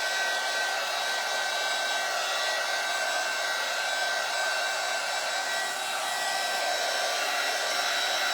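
A hair dryer blows steadily to dry decoupage rice paper on a cigar box, a continuous loud whooshing hum with a faint whine that holds unchanged throughout.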